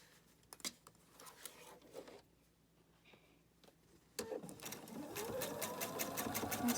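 A sewing machine stitches a fabric seam with a quarter-inch allowance, a steady mechanical whirr that starts and stops in short bursts early on, then runs loud and continuous near the end, with no voices.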